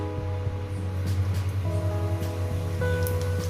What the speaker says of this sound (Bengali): সামান্য পরিমাণে জিরে ফোড়ন দিলাম